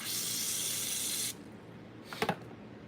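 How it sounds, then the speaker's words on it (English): Water running from a tap into a plastic deli cup lined with paper towel, a steady hiss that cuts off abruptly, followed by a short rustle and knock of the cup. "I just grab paper towel with a deli cup like this and just put a lot of water in there"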